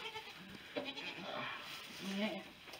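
Goats and baby goats bleating on a farm, several faint, wavering calls scattered through the clip, somewhat distant, with people talking softly in the background.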